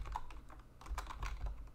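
Quick, close keystrokes on a computer keyboard while someone types code, producing light irregular clicks with soft thumps underneath, quiet and without any talk.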